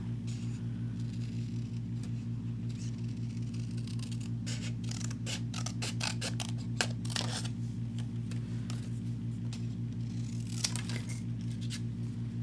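Scissors snip repeatedly through card stock in short, crisp cuts over a steady low electrical hum, close by with no talking.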